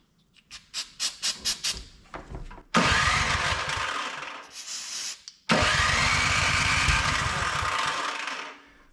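A Craftsman MTD snow blower engine sprayed with carb cleaner cranks with a few quick pulls, then fires and runs loud and close for several seconds, cuts out briefly, and catches again in a steady roar.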